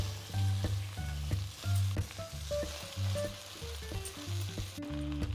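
Gongura leaves sizzle and fry in hot oil in a pan after garlic, a steady soft crackle close by, quiet and continuous, for an Andhra-style chutney.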